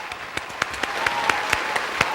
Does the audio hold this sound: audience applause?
yes